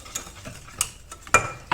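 A milk mixture whisked by hand in a bowl, with soft scattered clinks and scrapes of the whisk against the sides, faint and close, with no talking.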